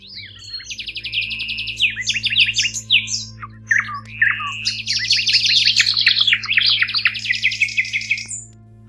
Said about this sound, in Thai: เสียงนกวิหกพลอยและเสียงสัตว์ป่าต่างๆส่งเสียงร้องเข้ามาในช่วงเวลาเช้าตรู่